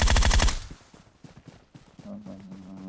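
Sniper rifle gunfire in PUBG Mobile, played on an iPhone 8 Plus, opens with a loud, sharp burst of shots, followed by quieter, scattered reports and game clatter.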